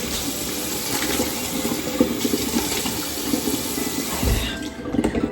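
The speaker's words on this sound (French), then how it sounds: "Du coup, je me lève, je vais laver mon visage." Tap water running steadily into a bathroom sink while a face is washed, a continuous close splashing gush with small irregular splashes and no talking.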